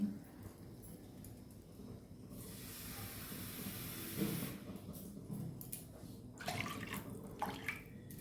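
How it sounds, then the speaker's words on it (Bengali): Water is poured into a pan of frying curry masala for an elephant foot yam curry, a soft hiss and rush lasting a couple of seconds over quiet kitchen background and faint clatter. "এই যে আমার মশলাটা কষে গেছে, আমি জল দিয়ে দিচ্ছি।"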